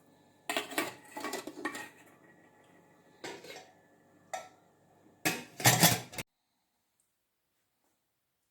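Pressure cooker vessel and a steel plate set in place inside a cooker while cooking sweet potato, producing several close metallic clanks and scrapes in bursts, then silence.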